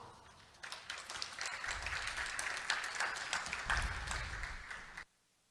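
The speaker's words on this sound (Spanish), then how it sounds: "Recibimos al ponente con un fuerte aplauso" Audience applause at an international circular economy congress welcomes a speaker, a sustained wash of many hands clapping over a low rumble, stopping abruptly near the end.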